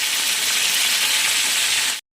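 A second batch of fish frying in a pan, a steady dense hiss of hot oil sizzling without pause, close and loud, then cutting off abruptly.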